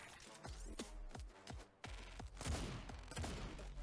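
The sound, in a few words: bouncing bullets firing in video game Autogun Heroes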